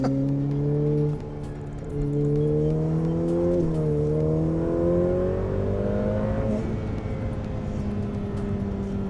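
A Ferrari F8 Tributo's twin-turbo V8 accelerates hard from the cabin, a loud rising engine tone climbing through several gears with brief dips at each upshift.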